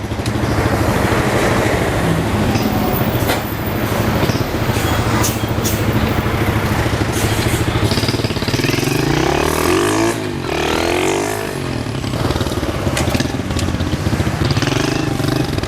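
Engine of a Mini Trail HSX 110 manual motorcycle running steadily in first gear during a test ride, a loud continuous close-up drone with a brief rising rev near the middle and no speech over it.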